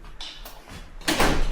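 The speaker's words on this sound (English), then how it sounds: "I gotta close the door." A mountain shelter door is pushed shut, giving a short scrape and a solid closing thud close by in a quiet room, with no talk.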